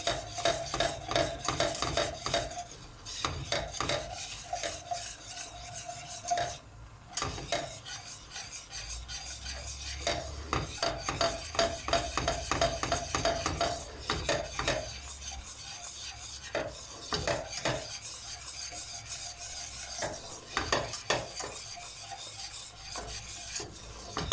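A wire whisk scrapes and rasps steadily around a pot as flour roasts inside, a close, repetitive metallic stirring with a brief pause, with no talk.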